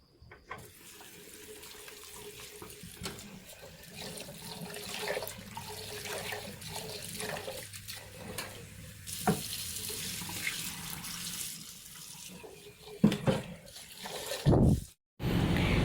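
Chickpeas being washed by hand under a running kitchen tap to remove loosened skins: a steady, fairly quiet hiss of flowing water with soft splashing and stirring, and a clatter near the end.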